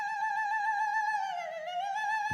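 Eerie wind sound effect from the video game The Legend of Zelda: Majora's Mask, a sustained, wavering tonal whoosh with bright harmonic overtones that bend slightly, heard clearly and alone for a couple of seconds.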